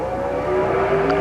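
A 1970s drag racing car idles loud and close at the start line of a dragstrip in the U.S. 30 Dragway, with its engine humming steadily and rising slightly, heard alone.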